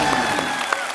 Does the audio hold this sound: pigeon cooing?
no